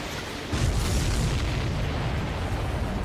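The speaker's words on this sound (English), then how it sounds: "Did you see that explosion? Looks like that's one of them down." An enemy supply ship blows up in Ace Combat 7, a deep, rumbling boom that rises suddenly after a brief lull and then rolls on heavily to the end without fading.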